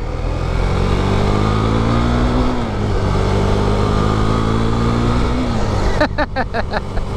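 A Husqvarna 401 Svartpilen motorcycle rides along a road, its engine droning steadily up close with wind rush and a brief shift in pitch near the end; a voice speaks over it.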